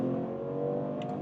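BMW Alpina B3 GT in sport mode pulling hard from 60 to 120 km/h, a steady droning engine note with strong low harmonics, heard from inside the cabin for a short stretch.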